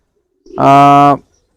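A single pigeon coo from a loft where birds are shut in one room, about half a second long, close and loud, with a steady tonal drone and no talk over it.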